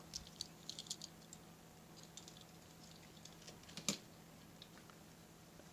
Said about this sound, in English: They have the same adjustable spoiler. You can hear them click up.